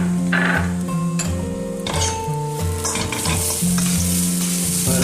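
Onion, green chili and ginger fry in a pan with a bright, continuous sizzle while a spoon scrapes and clinks against the metal in repeated stirring strokes, close and steady.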